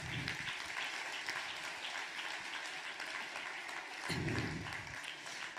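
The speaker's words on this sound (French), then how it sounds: "Donc je tenais à ce qu'on applaudisse" An audience at a political meeting gives steady applause, a dense patter of many hands clapping, fairly faint and distant, with a brief louder swell near the end.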